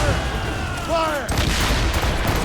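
Cannon fire in a naval battle at sea in Assassin's Creed Rogue, heavy booming shots under a background rumble, with a brief shouted voice partway through.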